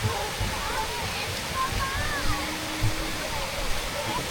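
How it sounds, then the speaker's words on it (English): Garden fountain at Alnwick Castle, water cascading in a steady, continuous rush up close, with faint voices of people around in the background. "now we have the fountain up and running"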